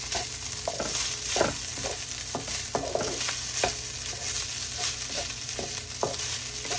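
Fried rice sizzles steadily in a hot pan while a utensil scrapes and stirs it in repeated strokes, close and continuous with no speech.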